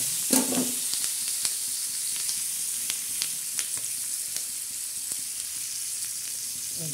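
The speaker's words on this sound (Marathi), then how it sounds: "मिरच्या छान आता तळून घेणार आहोत" Green chillies fry in hot oil with a steady, even sizzle throughout, broken by a few sharp pops and crackles and a brief stir near the start; no voices.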